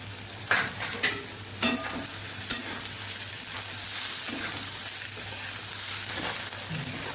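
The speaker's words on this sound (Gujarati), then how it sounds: "અહીં આપણી ડુંગળી મસ્ત એવી સતળાઈ ગઈ છે" Onions and long slit green chillies sauté in a pan, a steady sizzle broken by several sharp stirring scrapes and clinks early on, then settling into an even frying hiss with no talking.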